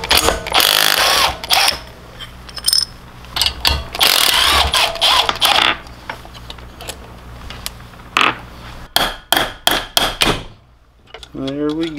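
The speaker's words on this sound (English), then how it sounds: "Next, we're going to go ahead and break the bolt loose." A 19 mm flywheel bolt being broken loose on a 196cc go-kart or mini bike engine, heard as loud bursts of a power tool with buzzing and whirring, then short repeated tool blasts, with a voice speaking near the end.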